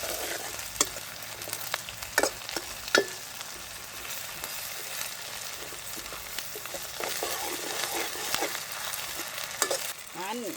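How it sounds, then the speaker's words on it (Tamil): Dried red chillies fry in a pan for tomato thokku, giving a steady sizzle and a crackle of hot oil, with occasional sharp clinks and scrapes from stirring, close and alone without speech. "காரத்துக்கு தேவையான ஒரு 10 செத்தல் சேர்த்துக்கொள்கிறேன்."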